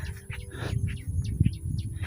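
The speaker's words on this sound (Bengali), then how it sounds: "পাখি উপরে ডাকে, খুব সুন্দর লাগে।" Birds call from overhead at a quiet village wetland in Bangladesh around seven in the early morning, with several short chirps and tweets repeating close by over a faint steady hum.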